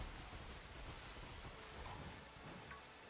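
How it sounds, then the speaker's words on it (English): Steady rain falls in the Pokémon Scarlet video game, a dense, even hiss of pouring rain with a faint low rumble underneath, continuous and unbroken throughout with no talking. "The rain is nice. I do like the rain in this game."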